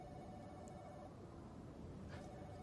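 Telephone rings inside a video game set in a town built for giraffes, a steady ringing tone running throughout over a dense, constant background of game sound.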